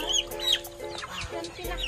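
Chickens cluck and chirp close by in short, overlapping calls in a farm's poultry area, with a faint low hum underneath and no talking.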